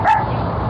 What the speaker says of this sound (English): The guard dog sets off a 12-bark alarm.